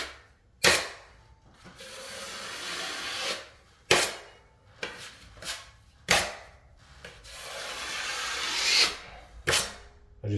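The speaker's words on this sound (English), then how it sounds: "your knife, just start to smooth that out." A drywall knife smooths joint compound along an inside drywall corner with repeated scraping passes. Sharp taps and clicks break up the quiet, rasping strokes.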